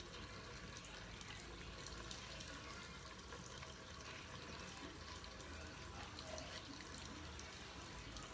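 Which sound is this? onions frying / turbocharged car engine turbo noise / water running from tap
water running from tap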